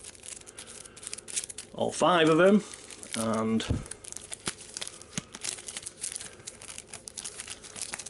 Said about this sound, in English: So what we'll do is we'll give these a quick shuffle